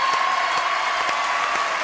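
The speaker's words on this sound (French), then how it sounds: "Bon, applaudissements pour ces jeunes gens" A studio audience at a French TV show claps in a steady, even burst of applause that carries through the whole short stretch.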